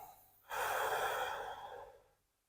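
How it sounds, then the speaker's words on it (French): One slow, deep breath is drawn in and let out over about two seconds, close and soft, an airy rush that fades out during a seated exercise for lower-back arthritis. "On s'assure de bien respirer profondément,"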